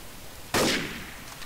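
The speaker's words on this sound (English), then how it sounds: "Jeez, he's shooting at me." A single sharp gunshot cracks out loud and close in a Roblox shooting game, its bright burst decaying over a fraction of a second with a faint second echo-like pop afterward.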